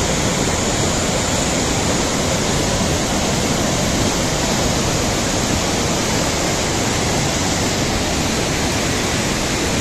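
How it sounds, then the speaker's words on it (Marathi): Hot spring water at Manikaran temple pours down in a steady, loud, broadband rush, unbroken for the whole stretch with no voices over it. "गरम हा गरम पाणी इकडे खाली येतो ना"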